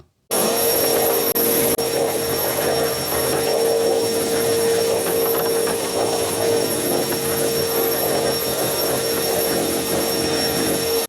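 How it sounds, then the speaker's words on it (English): A steady, loud whining roar of a soft-brush-ended vacuum cleaner cleaning up sanding dust on a wooden staircase, running continuously, close by, with a constant high tone and no voices. "get yourself a soft brushed ended vacuum and give it a real good clean up"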